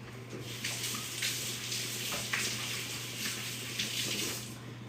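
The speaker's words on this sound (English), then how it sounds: "but I'm gonna go wash my fingers." Kitchen tap water runs in a steady close stream while fingers are washed, with small splashes and slight changes as hands move under the flow over a faint low hum.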